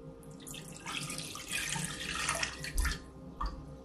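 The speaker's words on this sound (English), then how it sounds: "So I'm gonna pour that back into the pot" Wild rose syrup liquid is poured back into a rinsed cooking pot, giving a splashing, trickling stream that swells and wavers, ending in a few heavier gulps and drips.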